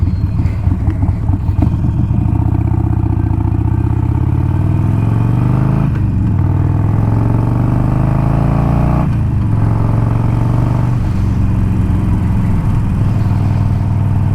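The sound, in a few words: Harley-Davidson Iron 1200 motorcycle exhaust revving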